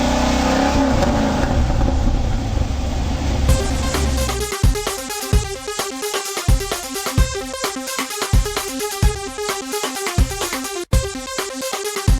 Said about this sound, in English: The cars are coming out for the Big Car A-Dash here on July 16th